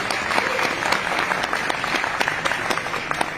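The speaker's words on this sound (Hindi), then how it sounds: "और आप सब लोगों के लिए जोरदार तालियां।" Loud, steady applause from an audience at a supermarket launch event in Dubai, honoring business achievers, with dense continuous clapping and occasional sharper claps standing out throughout.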